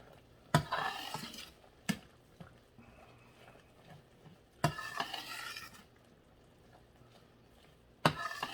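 A spoon stirs adobo seasoning into a dish in a cooking pot, giving a few sharp scrapes and clanks against the pot at irregular intervals over a faint sizzle, fairly close and otherwise quiet.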